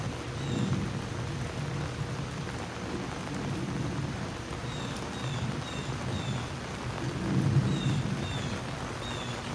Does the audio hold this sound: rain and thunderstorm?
yes